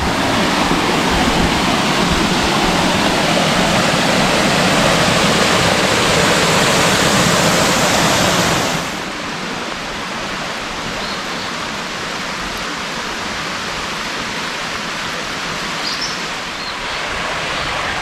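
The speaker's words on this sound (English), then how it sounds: "And here go the big waterfall." Big waterfall in a canyon at Matthiessen State Park, a loud, steady broadband roar that drops noticeably in level halfway through and keeps rushing on.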